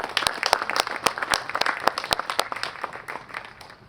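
An outdoor Memorial Day remembrance ceremony crowd applauds with a brisk spatter of individual claps, fairly close and lively, tapering off toward the end.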